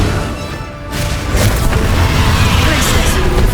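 A fiery Confringo blast goes off in Hogwarts Legacy, a loud booming burst that swells after a brief quieter lead-in and keeps rumbling thickly to the end, with combat sound effects layered around it.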